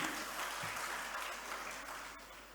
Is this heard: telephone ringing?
no